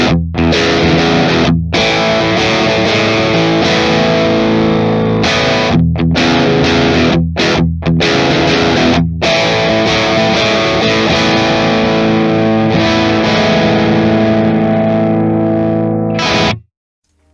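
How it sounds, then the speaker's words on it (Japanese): Electric guitar driven through an Origin Effects DCX Boost pedal in flat mode, giving a wide-range, crisp, raspy overdrive with a hi-fi edge; loud sustained chords and riffs with brief gaps, alone and close. "これあまりにワイドレンジなので結構バリッとした独特な歪み方をします"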